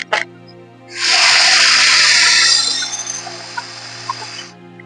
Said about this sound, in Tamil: இப்போ தேவையான அளவு தண்ணி ஊத்திக்கலாங்க